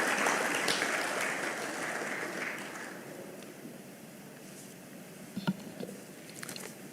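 Applause from an audience at a 60th anniversary thanksgiving service in Kenya welcomes a speaker, loud at first and fading over about three seconds into a quiet room with a few faint knocks.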